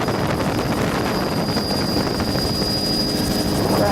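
A helicopter's steady, loud rotor drone and engine whine fill the whole stretch, constant and close, with wind rushing over the microphone and sheets of water going by.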